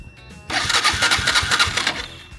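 Honda 300EX ATV engine cranks and catches after a short pause, sputtering into a rough, uneven rumble that stays close and loud before easing off.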